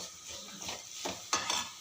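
A brief, quiet burst of sautéing with chilli powder in a pan: two or three scraping spoon strokes and a light clink over a faint sizzle, close by, no speech.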